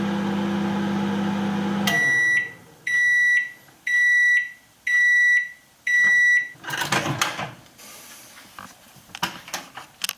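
A microwave oven heating a ready-made chicken and bacon pie: a low steady hum cuts off, then five loud, evenly spaced beeps sound up close, followed by the door clattering open and handling noises.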